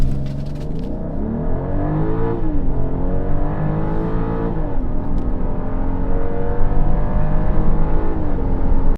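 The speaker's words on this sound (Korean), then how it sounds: "먼저 가속력부터 알아보자면" A BMW X7 40i SUV pulls hard through a full-throttle acceleration run, engine note climbing through the revs with short dips at each gear shift, loud and continuous from inside the car.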